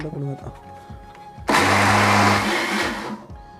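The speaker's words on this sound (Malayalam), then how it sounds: "ഇനി നമ്മളിത് മിക്സിയിലിട്ടിട്ട് അടിച്ചിട്ട് നല്ല ക്രീം പരുവത്തിലാക്കി മാറ്റണം" Mixer grinder whirring loudly as it blends a homemade ice cream mixture, a steady motor roar of about one and a half seconds rising sharply after a quiet start, with faint speech before and after.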